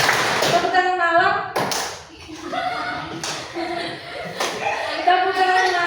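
Sharp hand claps from a classroom of children playing a rhythm clapping game, bursting out in an irregular pattern between and over loud sung chanting voices.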